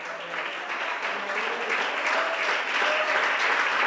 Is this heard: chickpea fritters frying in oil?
no